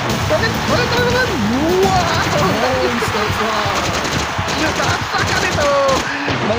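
Rapid gunfire shooting at enemy heroes in a mobile video game, dense and continuous throughout, mixed with game effects and splashy bursts while a voice talks over it.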